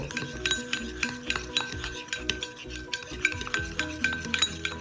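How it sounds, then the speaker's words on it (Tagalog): Pork chop marinade of pepper, salt, white sugar and paprika being mixed in a bowl, with a steady run of close, light clinks and scrapes of a utensil against the dish, no talking. "Mix natin ito ng mabuti."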